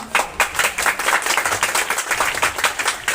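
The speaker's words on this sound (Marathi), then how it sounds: "त्यांच्यासाठी आपण जोरदार टाळ्या वाजवल्या पाहिजे" An audience at a Zilla Parishad school prize-giving in Naygaon, Muktainagar taluka, claps loudly, a steady patter of many hands that continues for several seconds with no talk over it.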